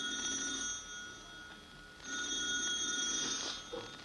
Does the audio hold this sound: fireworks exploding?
no